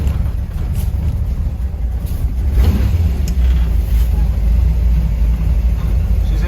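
After six months dormant, the engine of 'the 55' idles with a steady low, rough rumble and a slightly lumpy, low idle, loud and close throughout with no speech.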